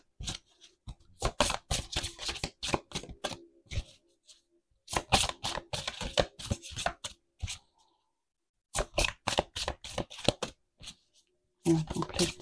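Tarot cards shuffled by hand close up, with rapid crisp riffling bursts in several separate rounds split by brief silences.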